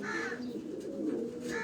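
Pigeons coo softly on a rooftop, a faint, low, throaty call repeating over a quiet background.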